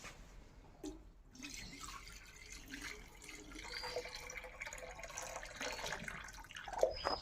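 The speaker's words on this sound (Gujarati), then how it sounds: "તો હાલો પાણી નખાઈ ગયું ટ્રેક્ટરમાં" Water pours into a farm tractor out in a cumin field, a steady, fairly quiet trickling splash that runs for several seconds with faint dripping near the end.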